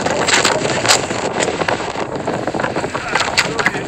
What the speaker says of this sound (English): the wind is extremely strong